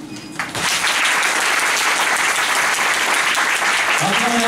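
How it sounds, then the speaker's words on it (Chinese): An audience at a lecture event breaks into loud, sustained clapping that swells quickly after a brief quiet start and holds steady throughout. "那我们今天我们先掌声欢迎欧阳主任来替我们简单的"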